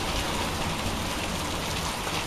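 Heavy rain and hail from a severe thunderstorm in Tornado Alley drum steadily and loudly on a surface, a dense unbroken roar with no voices over it.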